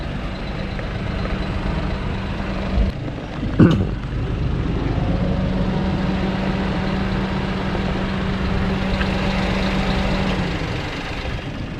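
Perodua Bezza 1.0 idling on a cold morning, a steady low engine drone at the exhaust with a faint whining tone running through it, a couple of brief clicks and knocks, no talking.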